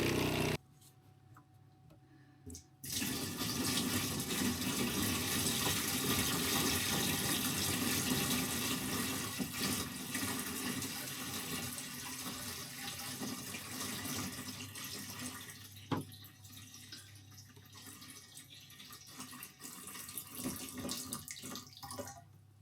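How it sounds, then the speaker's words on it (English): A running water pump that is low on water makes a harsh, rushing, gurgling noise. The sound is loud and continuous after a short quiet start, then eases a little toward the end. "the pump makes quite a horrible noise until you've put enough water in it"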